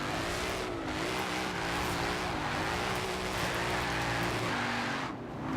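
An RTR Mustang Spec 5D in Forza Horizon 4 drives with a loud, continuous engine drone whose pitch wavers as revs rise and fall, with a brief dip near the end.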